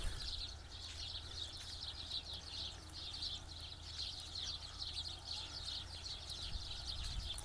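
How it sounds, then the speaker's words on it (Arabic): Many sparrows chirp and twitter continuously in trees in the distance, a soft, busy chorus against a low background rumble before dusk. "أصوات العصافير الجميلة فوق الأشجار"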